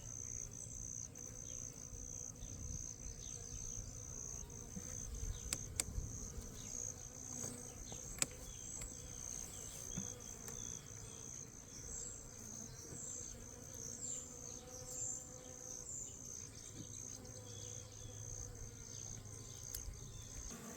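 Close, continuous buzzing of many honeybees at an open hive during inspection, a busy hum with individual insects flying past, no talking.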